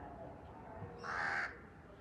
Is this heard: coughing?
no